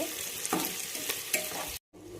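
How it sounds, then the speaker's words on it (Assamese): Mutton pieces fry in a pan for a home-style curry, a steady close broadband sizzle with occasional stirring scrapes, cutting out briefly near the end before resuming. "এয়া মই মাংস দি পেলাই ফ্ৰাই কৰি আছোঁ মাংস।"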